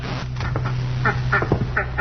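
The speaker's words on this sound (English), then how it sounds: "Here are the ducks." Ducks in a reptile-and-animal cage setting quack in several short, nasal bursts, some overlapping, as a radio-drama sound effect over a steady low hum.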